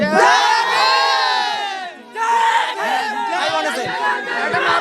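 Loud crowd cheering and chanting at a Bahujan Samaj Party political rally for Mayawati, many voices shouting in bursts with a brief dip around the two-second mark before the roar resumes.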